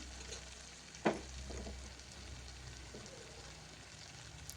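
Tomatoes and onions sauté in a pan for a tomato-onion thokku, a soft steady sizzle with a sharp spatula scrape or clink near the start and faint stirring sounds after.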